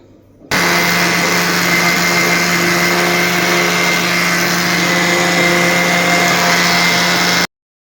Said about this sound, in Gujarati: તો જો આપણે મિક્સર જારમાં ક્રશ કરી લઈએ આ લોટને